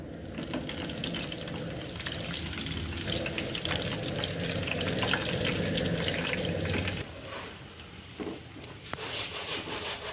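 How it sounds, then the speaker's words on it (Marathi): Green chillies frying in hot oil for chivda make a loud, steady crackling sizzle that cuts off abruptly partway through, leaving quieter spatters and faint clinks. "आता आपण हिरवी मिरची तळूया।"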